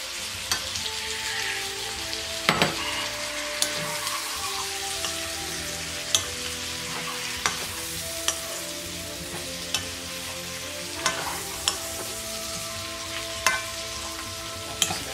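Shrimp frying with beef and snow peas in a pan for rice noodles, a constant close sizzle broken by sharp scraping clicks of stirring at irregular intervals.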